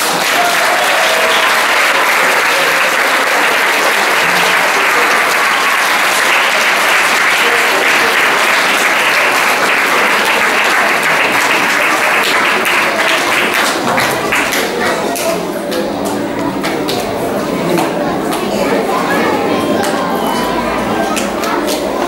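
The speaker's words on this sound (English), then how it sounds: "Big round of applause." Loud, dense applause fills a school celebration for young children, a thick continuous roar of many hands clapping close by that holds throughout, with some crowd noise mixed in and the texture thinning slightly toward the end.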